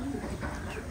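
American giant pigeons, large meat birds weighing over a kilogram, coo steadily in a farm loft, their low murmuring mixed with dense background noise.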